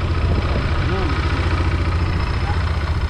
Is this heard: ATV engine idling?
yes